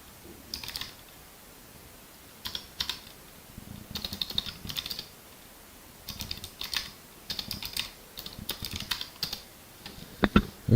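Bursts of close, rapid keystrokes on a computer keyboard in a home Linux setup, clattering in uneven runs with short pauses between them; no talking.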